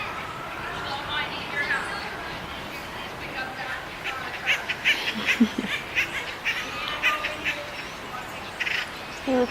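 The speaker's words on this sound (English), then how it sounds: "You looking at the birds?" Birds call at a nature center, with bursts of chirps and quacking-like calls growing busier toward the end, heard over outdoor background noise.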